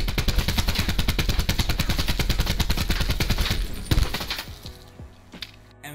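Rapid automatic fire from an ICR rifle in a video game, hip-fired with a grip attached, a loud sustained burst of evenly spaced shots that stops near the end, followed by a few lighter mechanical clicks.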